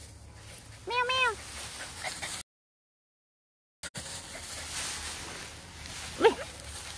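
A dog playing in a Bali rice field gives a few short, high yelping barks near the start, then falls quiet after a brief gap before one more faint yip.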